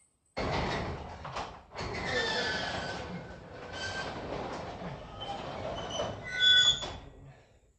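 Scraping, squeaking metal as a stuck, blocked door is forced open during a scrap metal run, with grinding slides, a sharp rattle near the end and a high screech, close and fairly loud with no talk.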